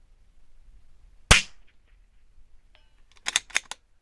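One sharp, loud .22 LR shot from a Zermatt Rim-X bolt-action rifle rings out, followed a couple of seconds later by a few faint, quick metallic clinks from targets 245 yards away.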